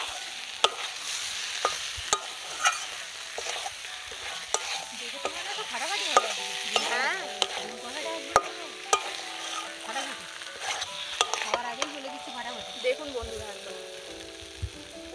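Egg curry masala (dim kosha) being stir-fried in a pan, with a spatula repeatedly scraping and clacking against the pan over a soft sizzle and some background tones.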